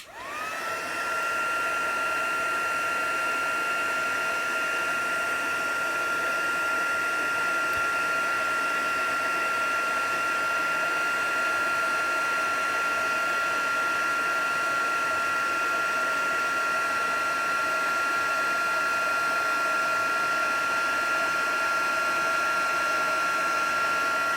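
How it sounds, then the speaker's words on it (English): Heat embossing tool blowing hot air over stamped card, a loud steady whoosh with a fan whine that runs unbroken from start to finish, with no talking. "Grab my heat tool."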